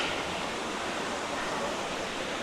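Steady rushing water from a waterfall fills the scene as a broad, even roar, fairly quiet and unbroken for the whole short stretch, with no voices.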